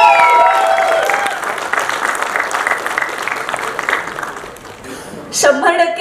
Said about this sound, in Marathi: नितीन सुपेकर यांच्यासाठी जोरदार टाळ्या झाल्या पाहिजे